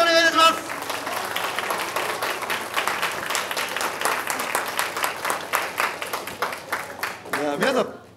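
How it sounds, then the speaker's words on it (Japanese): Audience applause after a women's wrestling match, a steady round of clapping from a crowd that swells at the start and end, with an announcer's voice over it. "今一度大きな拍手をお願いいたします。"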